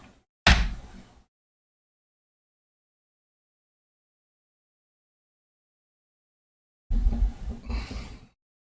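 A door in the Skin Deep game opening with a sharp mechanical clunk and brief slide, then a long silence before a second rattling mechanical door movement.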